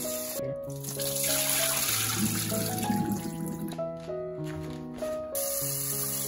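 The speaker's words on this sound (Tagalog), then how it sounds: "Boiling water for the kilawan." Boiling water poured for a Filipino kilawin of milkfish, a steady splashing gush running continuously under prominent tonal music throughout.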